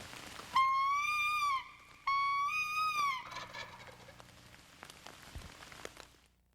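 A tom turkey gobbles loudly and up close in two long rattling calls, each with a second answer on its heels, over a soft patter of rain on a surface that lingers afterward.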